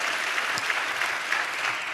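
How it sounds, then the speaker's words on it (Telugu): A church congregation claps in steady, dense applause, many hands together filling the room continuously and loudly, with no clear speech over it. "చప్పట్లు కొడుతూ దేవునికి స్తోత్రాలు చెప్దాం."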